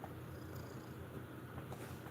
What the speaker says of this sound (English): And he's purring.